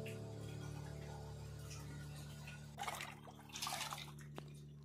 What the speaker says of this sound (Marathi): तर चला आता आपला माठ भराचं काम चालू आहे